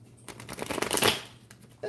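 A deck of tarot cards is shuffled up close, one quick riffling burst of papery flicks that swells and fades within about a second, set against a quiet room.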